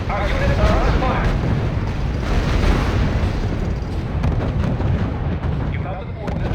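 Artillery fire rumbles through R.U.S.E, a war strategy game, as a steady, dense roar of booming shells and blasts that fills the whole stretch, with in-game radio voice chatter layered over it.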